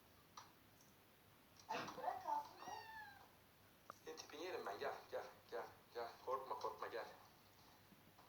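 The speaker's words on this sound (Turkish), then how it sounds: "Kedi kaçış yolu arıyor." Several cat meows come in short bursts, fairly close, mixed with other indoor sounds and faint handling noise.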